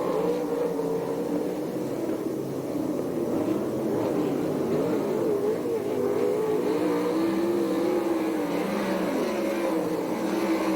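Sprint cars in an ASCS Canyon Region race at Perris, California, roaring into turn one, several engines droning and shifting pitch together in a steady, loud, continuous wall of sound.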